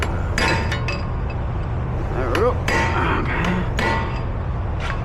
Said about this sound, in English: Get your hammer. Let's stamp this ear down.